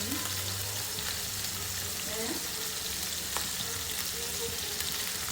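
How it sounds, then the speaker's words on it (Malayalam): Sardine and mackerel frying in a pan, giving a continuous close, loud oily sizzle with crackling pops and a few faint scraping stirs throughout. "സാധനം പൊരിക്കണ്ട്. ഇത് മത്തി, അയില."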